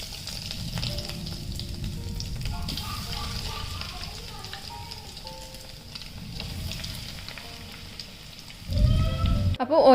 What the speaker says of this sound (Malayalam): അപ്പോൾ ഓരോന്നായിട്ട് ഞാനിവിടെ ഫ്രൈ ചെയ്യാൻ വേണ്ടി വെച്ചിട്ടുണ്ട്.